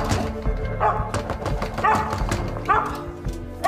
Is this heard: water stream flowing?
no